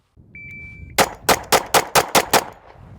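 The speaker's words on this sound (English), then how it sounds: "We're gonna shoot a bill drill for you." A shot timer beeps once, then a pistol fires six or seven rapid, evenly spaced shots in a bill drill, loud and close, with no talking.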